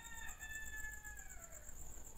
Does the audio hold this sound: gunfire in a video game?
no